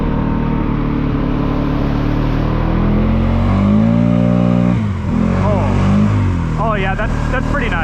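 A Polaris 450 fitted with new EPI clutch springs accelerates up close, its steady engine drone climbing in pitch, easing briefly, then revving again, with a person talking over it.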